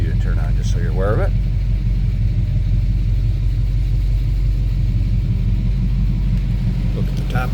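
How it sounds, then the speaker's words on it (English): A 1954 Oldsmobile 88 Holiday idling with a quiet, stock exhaust, giving a steady, loud low rumble throughout, with brief speech near the start and again at the end. "Slip around to the back so you can hear this run. Pretty quiet, no crazy exhaust"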